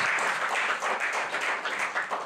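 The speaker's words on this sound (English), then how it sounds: "So I think that deserves a wonderful round of applause." Audience applause at a real estate book launch and dinner, a continuous dense round of clapping throughout, fairly close and full.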